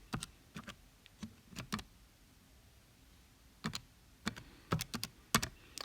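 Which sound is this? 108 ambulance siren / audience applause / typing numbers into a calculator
typing numbers into a calculator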